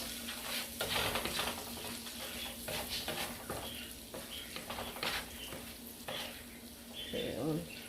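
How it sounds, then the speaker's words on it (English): Fresh basil stirred into a sizzling seafood pasta sauce with white clam sauce, a soft continuous frying hiss under scattered spoon scrapes and light clinks against the pan, fairly quiet and close. "I'm going to add my basil, fresh basil to this. Stir everything in."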